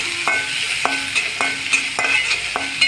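Onions sautéing in a pan for a plantain stir-fry, a steady background sizzle broken by regular spoon strokes against the pan, about five evenly spaced scrapes.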